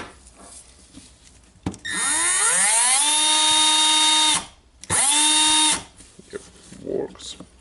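A Milwaukee M12 12V drill motor (M12BDD) is test-run in its housing, spinning up with a rising whine that holds steady for a few seconds, stops briefly, then runs again before cutting off, loud and close.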